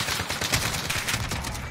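AK rifle fire in a multiplayer shooter video game: rapid, loud automatic bursts crackle close by in a tight, continuous volley with no voices over it.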